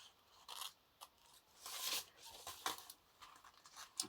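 Scissors cut an aperture into a handmade journal cover, with short close snips and paper scrapes in an uneven rhythm, quiet and without talk.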